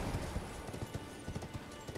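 Horse hooves in the Elden Ring video game, a quiet, fairly even run of soft hoofbeats against a faint background wash.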